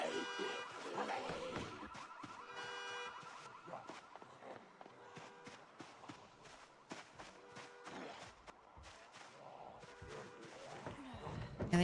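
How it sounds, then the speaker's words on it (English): A car alarm in the video game Project Zomboid cycles through rapid warbling tones at a distance, faint beneath scattered clicks and shuffling movement. "A car alarm has been triggered."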